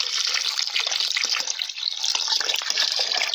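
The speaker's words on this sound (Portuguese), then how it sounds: "Aí eu vou botar água aqui, tá, meus amores? Mais ou menos 1 litro" Water running steadily into a cooking pot, about a litre poured in a continuous splashing stream while preparing lunch and juice in a home kitchen, close and fairly loud with no talking.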